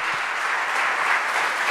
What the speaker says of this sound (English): Let's hear a big, big, big round of applause for Dr. Pawan.